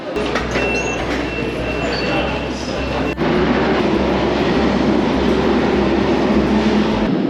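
A southbound London Underground Jubilee line train rumbles loudly in a steady roar with rhythmic low clatter, rising after a brief thump midway, with passengers talking faintly underneath.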